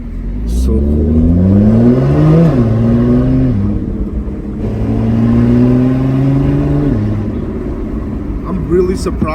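A loud Lotus Evora 400 supercharged Toyota 3.5 V6 engine revs hard as it accelerates, its pitch climbing through a gear then dropping at the shift before climbing again, close and powerful.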